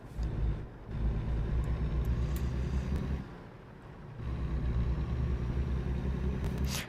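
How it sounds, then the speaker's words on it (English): A bus rolls past in American Truck Simulator with a steady, loud low engine rumble that dips briefly midway and then swells again as it goes by. No one talks. "Oh, let's let the bus go by."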